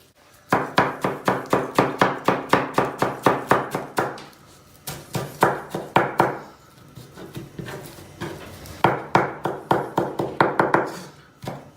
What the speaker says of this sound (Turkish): Biraz daha maydanoz dolmasını istediğim için içine çok az bir maydanoz daha doğrayacağım.